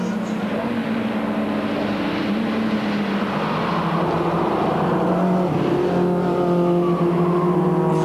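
Racing cars lap the Spa-Francorchamps circuit at night during the 1995 24-hour race, a continuous engine roar with rising and falling pitch as cars pass, steady and fairly loud.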